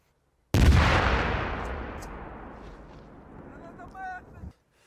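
A single heavy gunshot goes off during a Ukrainian military drill near the Belarus border, a loud sudden blast whose roar rolls out and slowly fades over several seconds, with faint voices in the distance.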